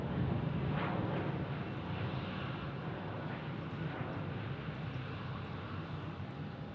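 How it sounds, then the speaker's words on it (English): An airplane takes off at Omaha Eppley Airfield with a steady, broad engine roar, distant and moderately faint, holding evenly throughout with no voices. "that's a great sound and a majestic takeoff right there"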